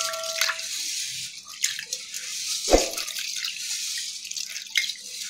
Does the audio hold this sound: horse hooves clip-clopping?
no